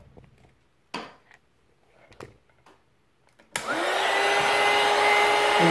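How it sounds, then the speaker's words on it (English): A heat gun for warming the plastic hinge of a disposable dental model articulator switches on after a few faint clicks and handling sounds, then blows as a loud, steady whirring roar that holds to the end. "We sell these heat guns, which will heat up the plastic hinge."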